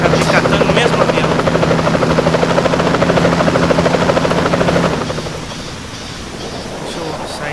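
Aircraft engine roar from GTA San Andreas, a loud, steady droning whir that drops in level and thins out about halfway through, then continues more quietly.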